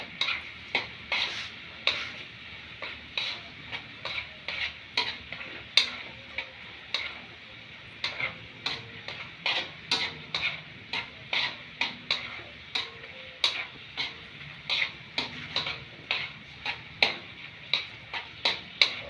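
Banana blossom chicharon frying in hot oil, a steady sizzle broken by a long, regular series of sharp crackling pops and taps, like stirring against the pan, running the whole time with no voices.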